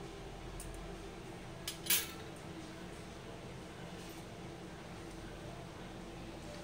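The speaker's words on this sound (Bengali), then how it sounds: "দেখো, ভালো করে চামচা দিয়ে একটু মিশিয়ে নিলাম আর কি।" A metal spoon mixes a paneer bhapa mixture with a little water in a pan, giving a couple of brief clinks and scrapes in the middle over a steady low background hum, with no talking.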